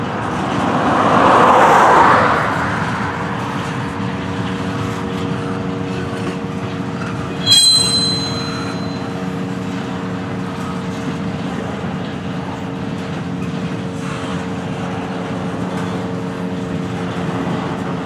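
A Florida East Coast freight train rolls past steadily, a loud sustained rumble with tonal wheel and engine hum and a sharp metallic squeal midway, continuing close for the whole stretch.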